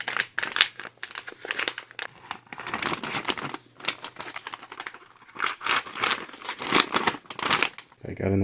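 Crinkly plastic rustles and crackles as an MRE flameless ration heater pouch holding a pizza slice is folded down, close and irregular, with bursts of crumpling separated by brief pauses.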